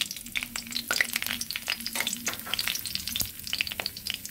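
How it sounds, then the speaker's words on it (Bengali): Dried red chili broken in two and cumin seeds hit hot oil in a kadai, giving a dense close sizzle full of sharp pops and spatters with a few stirring scrapes. "আমি এবার একটা শুকনো লঙ্কাকে 2 পিস করে আর কিছুটা জিরে দিয়ে দিচ্ছি।"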